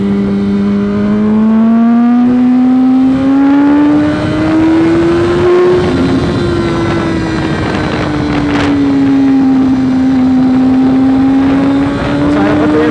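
A Yamaha R1 motorcycle engine revs loud and close, its tone climbing and falling through acceleration with heavy wind rushing past the rider's microphone.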